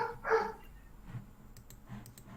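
A single dog bark comes early, fairly close and loud, followed by faint clicks and low background rumble with no talking.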